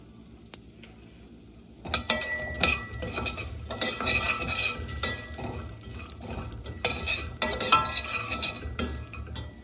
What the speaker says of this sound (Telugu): ఫ్రై అయినాయి కాబట్టి ఇప్పుడు మొత్తం వేసేసి కలిపారు.